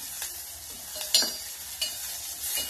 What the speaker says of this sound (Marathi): आता कांदा चांगला भाजायचा, पण लालसर करायचा नाहीये